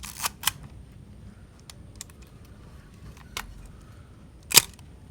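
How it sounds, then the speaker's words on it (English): A Nikon Nikkormat FT3 film camera clicks several times up close, a loud pair of snaps near the start, a few lighter ticks, then one sharp shutter release near the end. "So that you can see the shutter opening"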